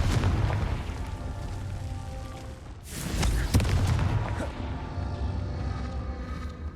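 In Hogwarts Legacy, the Confringo explosion spell sets off a booming game blast in a dense, rumbling soundscape, loud and close, with a sharp burst near the middle that trails off into a lingering roar.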